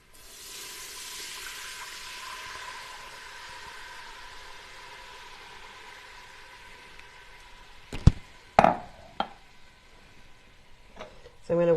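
White wine poured into a boiling pot of mussels for moules marinière sets off a broad hiss and sizzle that slowly fades, followed by a few sharp clanks and knocks near the end.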